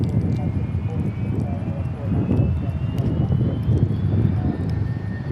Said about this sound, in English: Another 747 arrival on runway 13 right.